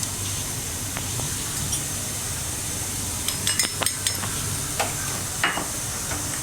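Chilli powder and meat masala sautéing in a pan for masala puri chaat, a low steady sizzle with a cluster of metallic stirring clinks and scrapes in the middle, no speech.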